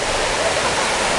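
Naramata Creek rushes steadily nearby on a hike toward the falls, a dense, even wash of flowing water filling the whole short stretch.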